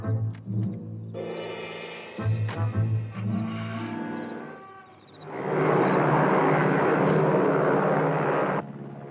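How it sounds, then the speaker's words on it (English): A powerful airplane engine in flight drones with a deep pulsing hum that fades and returns, then swells into a loud, broad, steady roar for several seconds before cutting off. "Very powerful plane."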